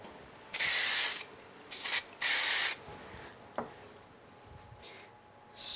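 Three bursts of aerosol spray hiss, each about half a second long, with short quiet gaps between them, close to the mic; a faint click follows.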